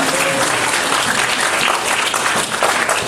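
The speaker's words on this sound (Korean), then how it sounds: "박수로 환영하겠습니다." A church congregation gathered for a Sunday morning service claps together in welcome, a dense, even applause that holds steady and fairly loud throughout.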